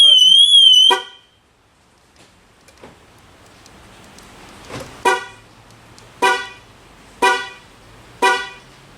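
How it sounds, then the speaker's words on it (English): A Buick Regal wagon's horn blares steadily when its panic button is set off, then cuts out; afterward a series of evenly spaced sharp bursts follow, loud and close, with faint talk in the background. "Especially when your head's right next to the horn."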